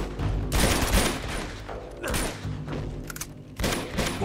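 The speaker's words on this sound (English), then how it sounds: "Just keep shooting." Video game gunfire comes in loud, heavy bursts of repeated shots with booming thuds, separated by short lulls, with no talk over it.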